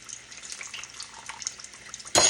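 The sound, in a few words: water being poured into powdered sugar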